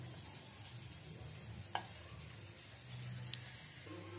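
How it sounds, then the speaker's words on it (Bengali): Onions frying in a generous amount of oil give a steady, low sizzle throughout, with a couple of brief utensil clicks and no talking. "পেঁয়াজটা ভেজে নেব।"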